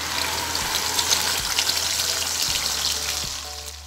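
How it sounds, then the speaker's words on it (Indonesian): Blended spice paste for seblak, a spicy Indonesian soup with chicken feet, sizzles as it is sautéed in hot oil, a continuous loud hiss and crackle with faint low clunks of stirring and no voices. "Sekarang kita tumis semua bumbu-bumbunya, dan ini minyaknya sudah panas."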